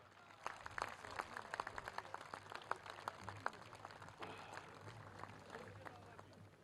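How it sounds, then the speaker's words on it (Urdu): A ceremonial audience at a health card distribution event in Bahawalpur applauds, a scattered patter of claps that rises and thins, faint and somewhat distant, with a voice over it. "ایک دفعہ پھر بھرپور تالیاں خواتین حضرات"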